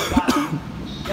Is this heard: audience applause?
no